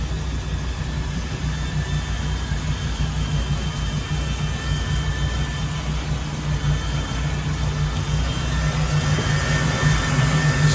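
A Mercruiser 4.3L MPI 220HP boat engine in a Cobalt 200 Bowrider idles smoothly and steadily with a low, even hum, heard alone with the engine hatch open.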